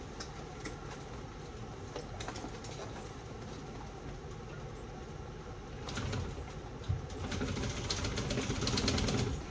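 A sewing machine stitches a seam in a shoulder bag at a steady whirring, rattling run, growing louder and busier toward the end as the needle keeps driving.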